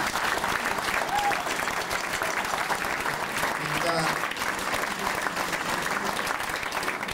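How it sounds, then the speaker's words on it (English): An audience applauds at a live blues concert in France, with steady, fairly loud clapping throughout and a short word spoken over it. "Let's give them a nice round of applause."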